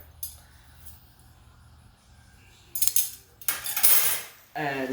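Pieces of rainbow-coloured metal flatware clink and rattle against each other in a few bright bursts, separated by quiet, fairly close and moderately loud.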